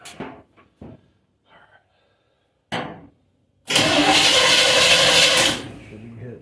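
A 1954 Chevy truck engine with a new fuel pump cranks in a few short bursts, then catches with a loud sputtering roar for under two seconds before dying out, with quiet gaps between attempts.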